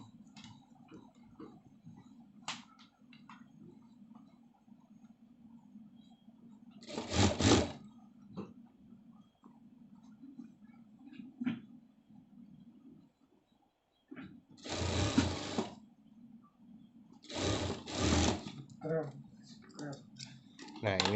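A sewing machine stitches a shirt seam, its steady clicking, ticking run broken by louder whirring bursts of fast stitching, with speech heard in between.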